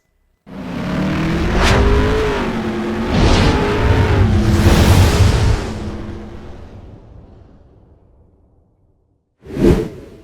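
A refreshed base-model Mazda BT-50 pickup with a 3-liter engine and automatic gearbox revs up loudly in repeated surges, then settles and fades, followed by a short sharp burst near the end.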